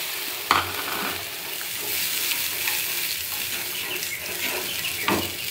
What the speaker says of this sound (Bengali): দেখো বন্ধুরা মশলাটা আমার ভাজা হয়ে গেছে প্রায়, কষানো হয়ে গেছে, তো এবার জলটা দিয়ে দিচ্ছি